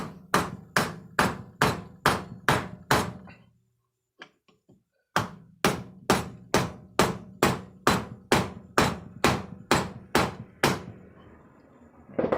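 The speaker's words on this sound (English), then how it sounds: "This is going to drive that outer, that inner bearing and the seal out." A hammer strikes a drift to drive the inner wheel bearing and seal out of a trailer hub, a fast series of loud metallic blows, a short pause, then a second longer run of ringing hits, close up and without speech.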